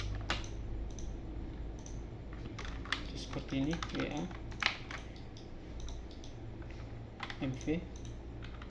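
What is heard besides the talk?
typing Revit shortcut commands on computer keyboard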